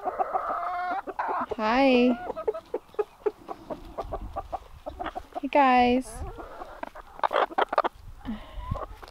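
Silkie chickens in a backyard coop cluck and squawk close by, with two loud drawn-out calls among softer clucks, while a person briefly greets others.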